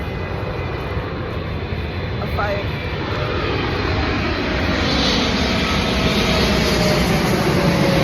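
A fixed-wing passenger airplane on a Qatar flight passes overhead, a broad steady engine roar that swells slightly louder toward the end, continuous throughout with no talk over it.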